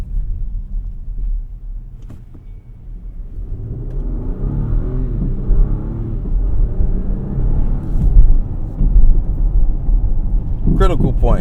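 An Acura MDX Type S pulls away from a standstill with the pedal floored, the engine note rising in a climbing drone after a hesitant start, heard from inside the cabin as a voice talks over it.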